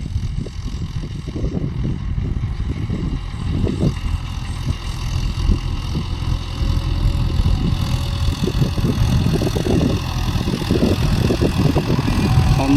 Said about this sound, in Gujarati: તમને બતાવું ટ્રેક્ટર.